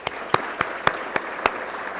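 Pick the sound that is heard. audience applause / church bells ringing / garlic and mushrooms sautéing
audience applause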